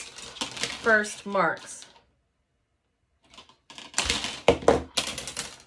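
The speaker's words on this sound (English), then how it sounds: "now with some wire cutters, I just have these needle nose pliers that have this wire cutter nipper in there" Needle nose pliers with a built-in wire cutter nip through material, giving a few short, sharp clicks that stand out among spoken words.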